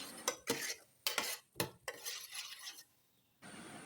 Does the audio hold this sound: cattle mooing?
no